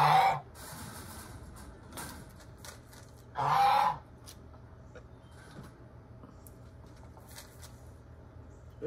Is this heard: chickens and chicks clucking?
yes